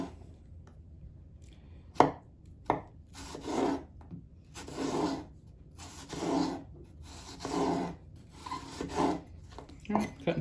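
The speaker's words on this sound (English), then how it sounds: "cutting some pieces of apple" A knife cutting apple into pieces on a board, a series of about six separate slicing and crunching strokes with short pauses between, close and fairly quiet.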